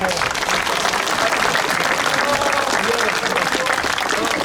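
Steady applause from an audience at a fishing club award ceremony, continuous dense clapping throughout, with some voices mixed in underneath.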